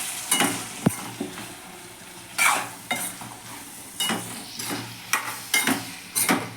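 Boiled beans and potatoes dropped into a pan of softened tomato and onion for a soya bean dish, stirred with scraping spoon strokes and bursts of sizzling, no voices.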